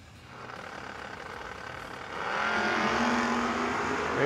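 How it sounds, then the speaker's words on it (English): Camaro and Mustang drag racing in a no-box 660 shootout, roaring engines that build louder around the midpoint and hold at full volume, heard from a distance. "Camaro trying to chase down the 4-eyed Mustang."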